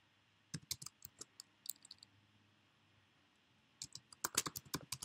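Quick bursts of key clicks on a computer keyboard, close and crisp, with a pause in the middle before a denser flurry of typing.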